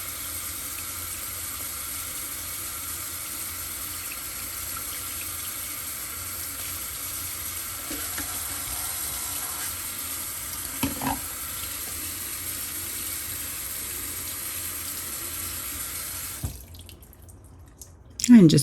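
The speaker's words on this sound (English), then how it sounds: "And then we'll go back to finishing washing the quinoa." Steady broadband rush of tap water running into a kitchen sink while quinoa is rinsed, continuous and fairly close, with a few brief handling knocks before the flow cuts off near the end.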